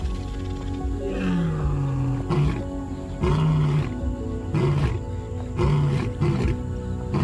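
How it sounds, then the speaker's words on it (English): A lion gives a series of deep, loud roaring grunts close by, repeated rhythmically at roughly one-second intervals, with no talk over them. "A roar that thunders like rolling thunder, audible from 5 miles away."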